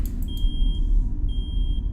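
Two sustained high-pitched beeps from a smoke detector alarm in a horror video game sound over a low, rumbling ambient drone, with no talking.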